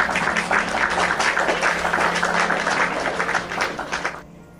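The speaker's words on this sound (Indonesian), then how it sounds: "tepuk tangan buat Yani Pulungan yang cantik dan manis" A crowd claps steadily for a few seconds, the sound dense and fairly loud before quickly tapering off and cutting to near silence.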